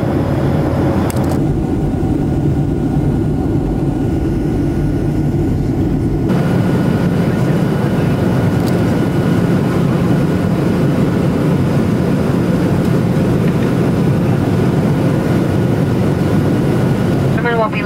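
Steady, loud engine roar fills an airplane cabin throughout, a constant broadband drone that shifts slightly in tone partway through.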